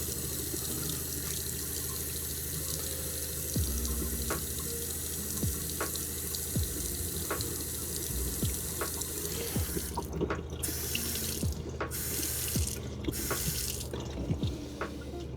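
Water runs from a freshly repaired tap in a coffee trailer, a steady close stream with a few drips and splashes into the sink, ending in short breaks as the flow is stopped and started.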